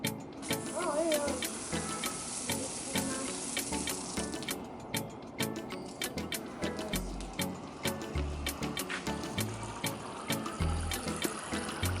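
Water streams and splashes steadily inside a homemade plastic bottle fountain, a continuous close trickling and pouring with bursts of bubbling; no one speaks.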